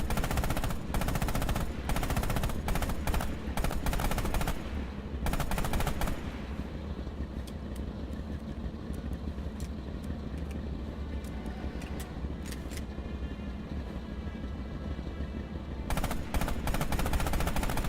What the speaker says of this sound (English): Use the hull MG and open fire on the targets.